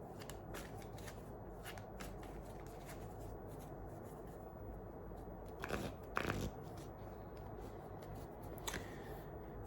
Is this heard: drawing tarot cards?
yes